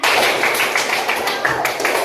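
Children in a classroom clapping game clap together in a dense, continuous patter of overlapping hand claps that stays loud throughout.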